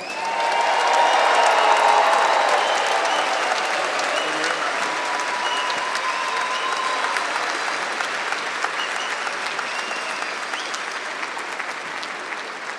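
A large graduation crowd at LSU applauds the business graduates, a long, loud swell of clapping with faint cheers that rises at first, then gradually thins and softens over many seconds.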